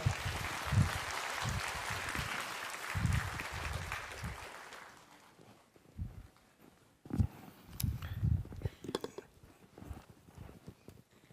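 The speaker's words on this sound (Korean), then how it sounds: "여러분 뜨거운 박수 부탁합니다." Church congregation claps at a Sunday worship service, a burst of applause that fades after about five seconds, followed by scattered claps and brief talk.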